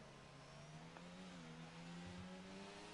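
Race cars accelerating at a restart after a safety car period in an online racing league round at China, with engines revving and rising in pitch, faint and distant, with no talk.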